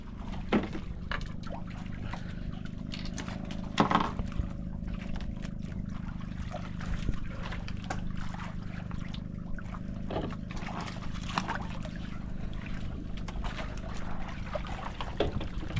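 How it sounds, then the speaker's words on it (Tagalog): Water poured into a container on a fishing outing, a steady trickling and splashing that runs continuously, with a few louder bursts, against low outdoor rumble and no speech. "Ayan, lagyan natin ng tubig agad"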